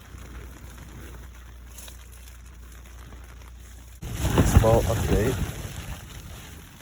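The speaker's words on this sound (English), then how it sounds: "It's windy as hell and raining out." Wind buffets the microphone with a low rumble and rain patters at a mountain campsite at night, growing rougher and louder midway as a voice speaks over it.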